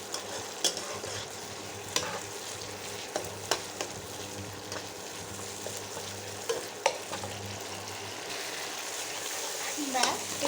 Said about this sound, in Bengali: আদা রসুনটাকে আমি একসাথেই বেটে রেখেছিলাম, সেটাকে আমি দিয়ে এবারে কিছুক্ষণের জন্য নাড়াচাড়া করে নেব।